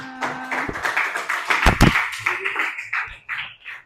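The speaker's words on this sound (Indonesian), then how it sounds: "tepuk tangan untuk kita semua" Schoolchildren and their teacher clap together in a classroom at the end of a primary-school art lesson, a brief burst of hand claps mixed with children's voices and chatter.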